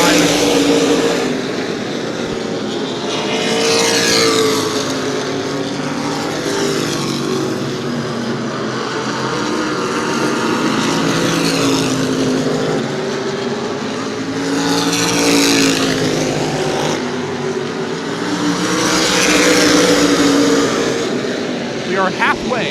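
Modified race cars roar around the New Smyrna Speedway oval, a loud, continuous engine drone with engine notes rising and falling as the pack passes, while a commentator talks over it.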